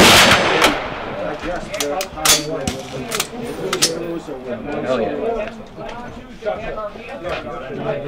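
A fully automatic rifle fitted with an Alpha Omega muzzle brake fires outdoors in rapid, sharp bursts, loud and close, with short gaps between the strings of shots.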